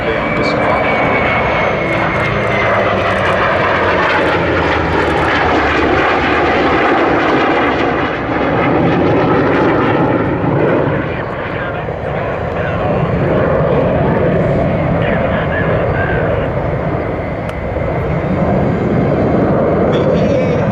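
An EA-18G Growler jet and a vintage F4U-4 Corsair flying together at a Navy air show: a loud, continuous roar of aircraft engines mixing jet rumble with propeller drone, steady for the whole stretch with a narrator talking over it.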